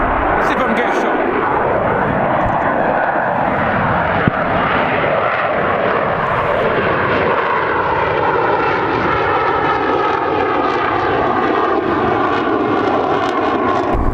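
An aircraft engine drones loudly and steadily at the Duxford Battle of Britain airshow, its pitch slowly sliding downward as the plane passes, with a person talking over it.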